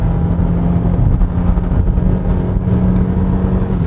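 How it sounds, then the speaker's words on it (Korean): Gasoline engine of a 2022 Hyundai Elantra Hybrid, 105 hp, running with the battery depleted, pulls under acceleration on a winding road; a steady, loud low-pitched drone with a constant hum, heard from inside the cabin with no talking. "이 차는 지금 그냥 105마력짜리 네, 가솔린 엔진 차일 뿐이에요"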